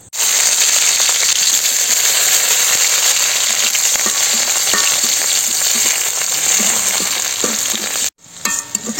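Chopped onions frying in hot oil for a village picnic meal, a loud, steady close-up sizzle with faint stirring clinks, cutting off abruptly near the end before resuming.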